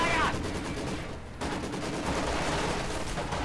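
Sustained automatic fire from a Maxim machine gun in Company of Heroes 2, a loud continuous rattling burst that dips briefly and then resumes at full strength.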